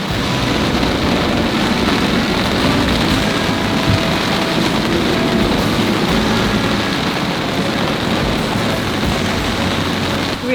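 A squall lashes a sailboat crossing the Atlantic near the Bermuda Triangle, with a steady, loud roar of wind-driven rain and spray that holds unbroken throughout, no voices.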